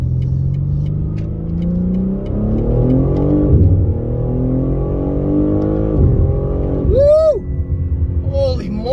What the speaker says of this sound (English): I'm just gonna take it for a quick run up and back on the highway just so that I can test the acceleration feel